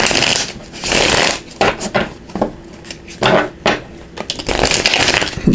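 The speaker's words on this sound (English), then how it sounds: "So let me just give this a quick shuffle." Oracle cards being shuffled by hand, with repeated bursts of crisp riffling and papery slapping that come and go in uneven waves, close and fairly loud, with no talking.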